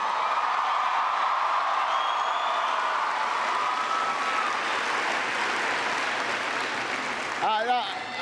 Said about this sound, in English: let me begin by asking everybody to give Seth a big round of applause for that great introduction